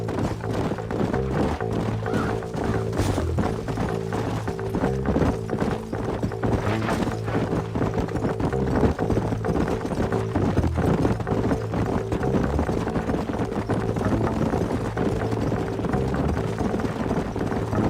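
Steady clip-clopping of horse hooves continues throughout, a rhythmic trotting beat layered over a constant low rumble of game ambience in Red Dead Redemption.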